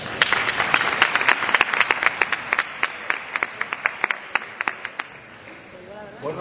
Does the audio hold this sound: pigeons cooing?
no